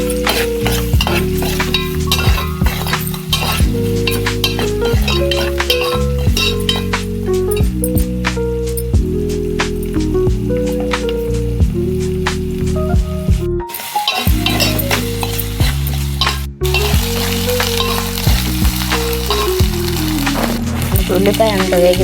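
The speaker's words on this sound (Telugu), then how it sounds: "ఉల్లిపాయల్లోనే కొంచెం ఉప్పు పసుపు వేసుకుంటే వేగుతాయి" Sliced onions and green chillies frying in a pan with salt and turmeric keep up a continuous sizzle, with spoon stirring and scraping on top, all under steady background music and without a voice.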